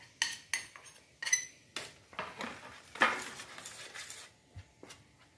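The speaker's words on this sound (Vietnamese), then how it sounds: "bây giờ mình cho cái phần bột năng vô mình khuấy lên nha các bạn" A spoon clinks and scrapes against a bowl while tapioca starch is stirred into rice flour batter, a series of sharp separate knocks and clatters, close and uneven in rhythm.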